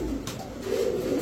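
Pigeons coo at a pigeon market, a low throaty cooing close by with a second swelling call, over a hum of background noise.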